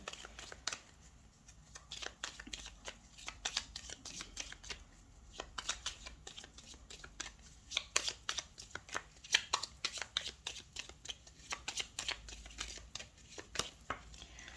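Tarot cards are shuffled by hand for the whole stretch, a close, quiet run of rapid riffling flicks and soft slaps in uneven bursts, with no talk.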